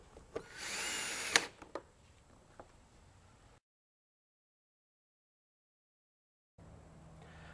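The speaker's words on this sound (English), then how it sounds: "you're going to put the self-tapping screw in" A power drill runs for about two seconds, driving a self-tapping screw into a vinyl gate latch, loud and close, then stops abruptly; a few clicks follow before a stretch of silence.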